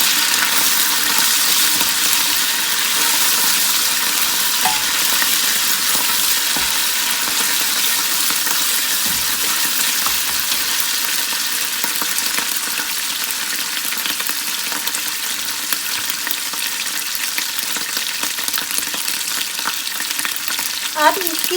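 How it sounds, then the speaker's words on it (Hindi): Ginger garlic paste frying in hot oil, a dense, even sizzle that holds steady and close for the whole stretch with only faint stirring underneath and no speech. "और इसको भी थोड़ा सा हम लोग फ्राई करेंगे।"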